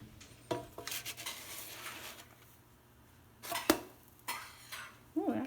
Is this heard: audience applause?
no